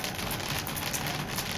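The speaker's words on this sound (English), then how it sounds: "The sun is out, and it's raining." Light rain falling steadily during a sun shower, a soft continuous patter of drops on surfaces, fairly quiet and even throughout with no voices.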